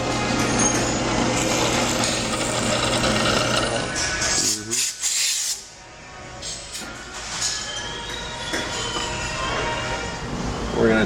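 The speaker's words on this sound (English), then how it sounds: "We're just going to drill a hole for the sling stud." A loud, continuous mechanical whine with grinding and rasping from a drill press drilling a sling stud hole during an AR rifle build, briefly dropping off midway before the machine noise resumes at full strength.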